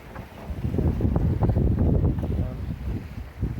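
A sailboat running downwind just past the Fleeming Channel off Eleuthera in the Bahamas: steady wind rush buffets the microphone over a low, continuous wash of water along the hull, with no voices.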